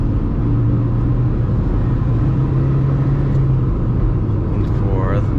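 A car engine hums steadily from inside the cabin, with the drone shifting in pitch as the driver works through tight, short-throw gear changes, rumbling under a low road roar.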